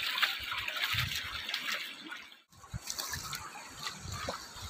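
A child splashing and playing in water at Simrayo, a hillside water park area, with continuous bright splashing and trickling close by, a brief pause midway, then more splashing.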